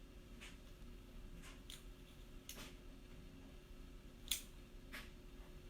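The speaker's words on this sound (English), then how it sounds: "pull it back, listen for the click." A gun loaded with plastic snap caps dry-firing during a firearm safety handling exercise, giving several faint, sharp clicks spaced about a second apart against a quiet room hum.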